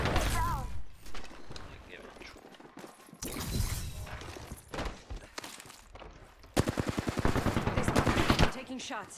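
Apex Legends gunfire in a match, with rapid automatic bursts and single shots in loud clusters, ending in a steady fast rattle, while players talk over the action.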